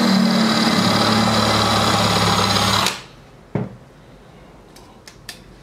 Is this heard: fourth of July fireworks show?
no